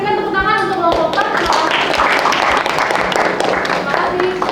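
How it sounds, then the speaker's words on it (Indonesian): Classroom clapping for a student group during a teaching practice session, a crowd of hands tapping in fairly sparse, uneven beats with some background murmur and a voice, lasting several seconds. "Oke, berikan tepuk tangan untuk kelompok 4"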